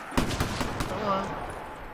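A Death Machine minigun in Black Ops III Zombies on the MW2 Rust map, a short burst of rapid gunfire with sharp shots, then a fading tail and a faint tonal game sound.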